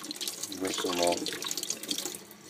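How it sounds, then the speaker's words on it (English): Running tap water at a sink rinses two steel knife blades, AEB-L and 14C28N, after a 24-hour acid soak, a close steady splashing flow with brief shifts as the blades pass through the stream. "Rinse them off"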